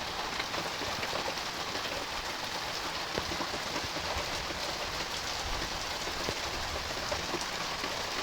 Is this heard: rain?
yes